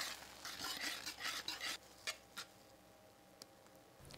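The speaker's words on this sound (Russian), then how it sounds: "Добавляем ванильный сахар, соль и хорошо все перемешиваем с помощью венчика" A whisk beats milk, sour cream, vanilla sugar and salt together in a bowl for Easter paska dough, a quick scratchy rhythmic stirring that fades out into a few faint taps and clinks.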